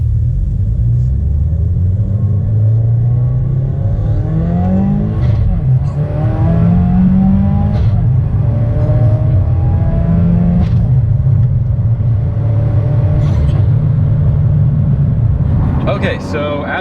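A 2017 Subaru WRX with a short-throw shifter accelerates hard through the gears on a drive, its loud in-cabin engine rumble rising in pitch with each pull and dropping briefly at every quick shift.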